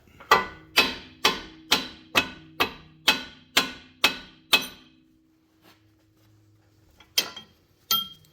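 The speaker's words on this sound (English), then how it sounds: "I'm going to hit the top of it with the hammer just to separate that" A hammer strikes a rebar set on a rivet about ten times in a steady ringing rhythm, then silence, followed by two more separate clanks, during front axle work on a 2019 Chevrolet Trax AWD.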